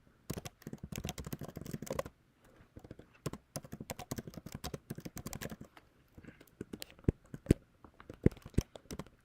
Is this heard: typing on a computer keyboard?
yes